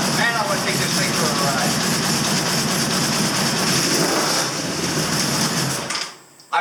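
A 1983 Honda CB1000 Custom motorcycle engine runs steadily and loudly at idle with a dense mechanical clatter, then cuts off abruptly near the end.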